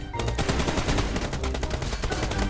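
Rapid, continuous machine gun fire in a video game team deathmatch rattles loudly and close up, a steady stream of shots without pause.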